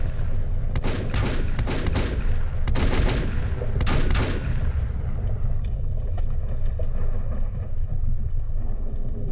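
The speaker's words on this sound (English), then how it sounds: "there's something shooting me and I can't see it" Gunfire from an unseen enemy in the Volcanoids video game, heard as a cluster of sharp shots over a constant loud mechanical rumble during the first half, then fading into the steady drone.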